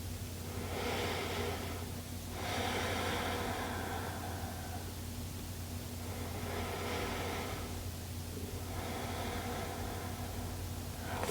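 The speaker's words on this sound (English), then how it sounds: "Slow inhales, slow exhales." Slow, deep breaths during a gentle yoga class, broad airy swells rising and falling in a steady rhythm, roughly one long inhale or exhale every few seconds, heard up close over a constant low hum with no talking.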